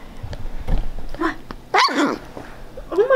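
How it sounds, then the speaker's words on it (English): A dog growls and lets out short, close barks and yips in bursts, amid a lively household setting. "She's growling at Michaela."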